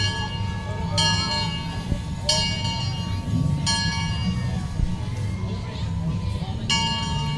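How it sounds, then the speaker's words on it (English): An American Legion 40 and 8 parade train rolling along a main street during a nighttime Christmas parade, a bell ringing repeatedly at regular intervals over a steady rumbling crowd and engine hum. "Coming into your picture here momentarily is the 40 and 8 train from the American Legion."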